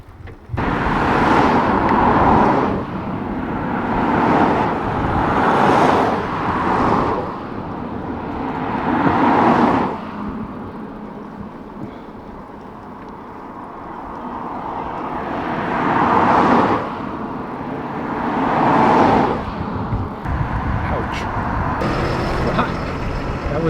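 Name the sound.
bus passing on the road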